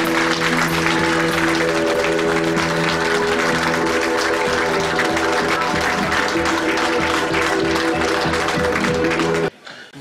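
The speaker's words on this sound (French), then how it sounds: "Nous allons applaudir très fort Monsieur Iba" A hall audience applauds Monsieur Iba with loud, dense, sustained clapping from many hands that holds steady for several seconds, then stops abruptly.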